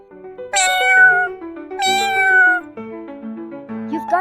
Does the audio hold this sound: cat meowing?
yes